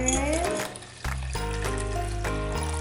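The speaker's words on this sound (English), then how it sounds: "And then pour water." Water is poured into a pitcher for homemade strawberry lemonade, giving a short close splashing fill with a brief break partway through, faint background sounds alongside.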